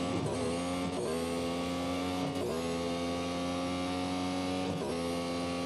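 An F1 car engine in the Real Racing 3 racing game holds a steady high-pitched drone, with brief dips around gear shifts; loud and continuous, no talk.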